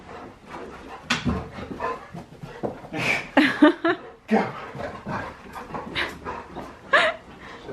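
An excited wet dog just back from the dog park whimpers, yips and gives short barks in irregular bursts at close range, with a person occasionally talking over it.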